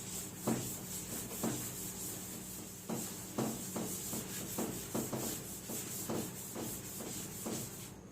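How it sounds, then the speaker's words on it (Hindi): A board eraser rubs writing off a board during a chemistry lesson on naming coordination compounds, giving a series of short, close scrubbing strokes in an uneven rhythm with no talking. "जरा देखो इसको, मैं रब कर देता हूं।"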